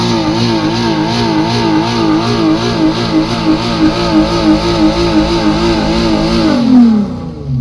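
A loud Nissan 3.5L car engine revs continuously up close, its pitch wavering rhythmically, then rising to a final peak before dropping off.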